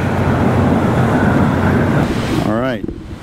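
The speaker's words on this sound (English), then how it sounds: "It's a little bit windy" Steady wind buffets the microphone on a flat roof with a loud, rushing roar throughout, and a voice briefly starts to speak near the end.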